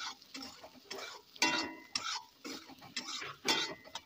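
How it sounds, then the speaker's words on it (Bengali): Soya chunks fry in oil in a pan while a utensil stirs them, giving irregular bursts of scraping and clinking over a faint sizzle, with no voices. "ওই তেলের মধ্যে আমি দিয়ে দেব সয়াবিনগুলো ভালোভাবে লালচে করে ভেজে নেব"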